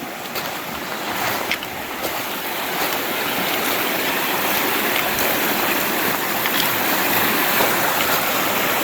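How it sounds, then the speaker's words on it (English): Creek water flows steadily along an Ozark Highlands Trail crossing, a broad, continuous rushing wash that holds close and even throughout with no voices. "Beautiful creek."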